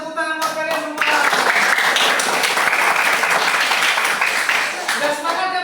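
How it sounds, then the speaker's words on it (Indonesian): A class of students claps loudly and steadily after a few scattered opening claps and a teacher's voice, the applause fading slightly near the end. "semuanya bisa tepuk tangan buat kalian semua"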